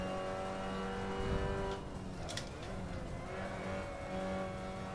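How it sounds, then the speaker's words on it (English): Old BTCC touring cars race around Donington Park, engines revving and changing pitch as they pass, with a brief tyre squeal amid steady, moderately distant motor roar. "get the chance to see and hear old BTCC cars going around Donington"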